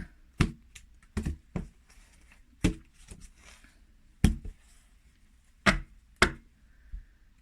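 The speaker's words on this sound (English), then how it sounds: "I'll cut the deck." A deck of tarot cards being cut and shuffled on a table, with sharp, close slaps and taps of the cards coming in irregular clusters between quiet gaps.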